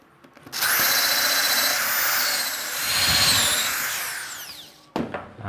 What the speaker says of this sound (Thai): เดี๋ยวเราลองใช้ตัวสว่านตัวเจมาตัวเล็กกันบ้างตามีสายนะครับ